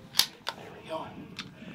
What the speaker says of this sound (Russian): Знакомый звук, защелкиваем фиксатор на магазине